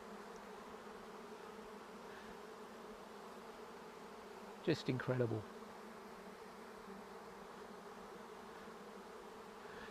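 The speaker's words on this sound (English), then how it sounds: "They'll cluster around her in a big ball of bees like this called a bivouac." A continuous low buzzing drone of a honey bee swarm clustered in a ball around the queen fills the background, while a voice briefly speaks over it midway.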